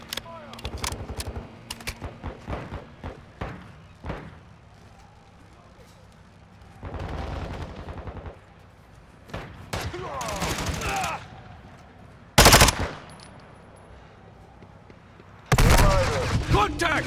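Call of Duty team deathmatch gunfire erupts in rapid bursts and sharp single shots, close and loud, with heavy volleys between quieter gaps and voices breaking in now and then.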